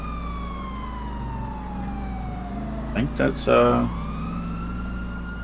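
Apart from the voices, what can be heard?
police car siren in a roleplay video game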